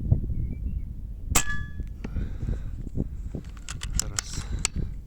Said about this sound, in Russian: Буду стрелять в нижнюю мишень.